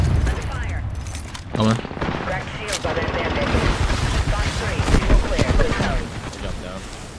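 Rapid gunfire and explosive bursts from a firefight in Apex Legends, dense and continuous, with someone talking over the shooting throughout.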